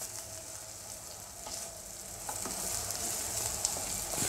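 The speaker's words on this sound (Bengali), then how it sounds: "আমি বড়াগুলো ভেজে নিচ্ছি" Lentil fritters (bora) frying in hot oil give off a steady, close sizzle with faint crackles, building slightly louder toward the end, with no voices.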